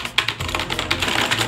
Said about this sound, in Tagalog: Masyadong maingay yung keyboard ko. Mechanical keyboard kasi siya